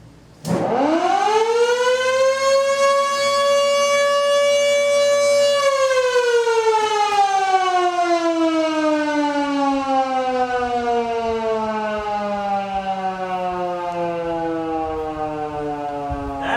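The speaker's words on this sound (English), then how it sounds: "I'm gonna blow your roof siren. Which also came from Bendersville." A roof-mounted fire siren from Bendersville winds up sharply, holds a loud steady wail for several seconds, then slowly winds down in pitch while still sounding strongly, with no voices over it.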